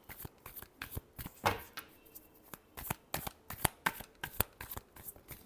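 Tarot cards are shuffled by hand in a series of crisp, close riffles and slaps, a quick irregular rhythm of soft papery bursts in an otherwise quiet room.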